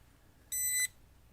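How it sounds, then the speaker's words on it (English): A contactless voltage tester gives a single short electronic beep, clear and close against quiet background hiss, held for about a third of a second. "it lights up red and beeps if the wire is live"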